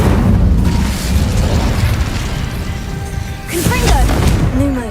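An Incendio fire spell cast in Hogwarts Legacy: a loud whooshing, crackling burst of flame with a sustained roar, followed by brief magical chimes.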